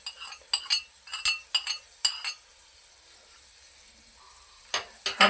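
Green chillies and garlic frying in a pan, with sharp metallic clinks of a spoon scraping and stirring in quick bursts over a light sizzle, a quiet pause, then more clattering.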